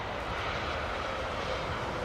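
A CFM56 jet engine roars at Heathrow, a steady, broad, close-sounding rush of engine noise that stays constant throughout with no voices.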